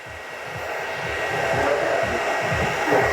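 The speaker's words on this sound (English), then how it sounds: "And just start to dry it through your fingers a little bit." Hair dryer running on medium heat and medium speed while drying a man's wavy hair after a disconnected fade haircut, a steady close whooshing roar with a faint motor whine that rises slightly in loudness, no talking.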